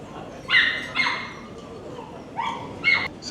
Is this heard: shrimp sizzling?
no